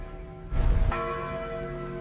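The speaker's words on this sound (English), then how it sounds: "Church bells were another sleep disturber." A church bell rings out loud and alone, one strong strike blooming into a long resonant hum with ringing overtones that hang and slowly decay.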